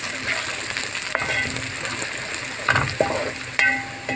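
Tomato sauce fries in a pot for koshari while a spoon stirs it, giving a loud, close, continuous sizzle with scraping and a few sharp knocks against the pot.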